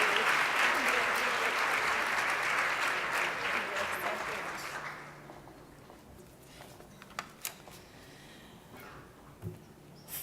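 An audience at an awards banquet claps loudly for about five seconds, then the applause fades out, leaving quiet room noise with a few faint knocks.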